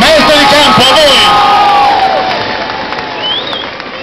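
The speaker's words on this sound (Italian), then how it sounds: "forte con l'applauso, rullo di piedi, di mani e di voce" Loud, dense crowd roar with cheering, whoops and shouting at an outdoor Gioco del Ponte final in Italy, rising and swelling across the stretch, with voices calling out over the mass of noise.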